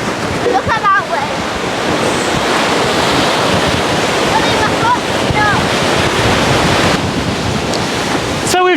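Surf breaks continuously on a beach in Kos on an evening, a steady broad wash with wind buffeting the microphone and brief snatches of voices and chirps along the way.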